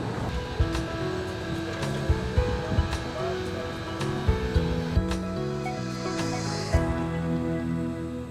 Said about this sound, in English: You can hear the air pumps kind of softly working in the background.